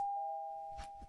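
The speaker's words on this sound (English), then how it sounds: "Ring doorbell!" A house doorbell rings on Halloween during trick-or-treating, one clear sustained electronic chime that fades slowly over about a second, with faint soft rustles near the end.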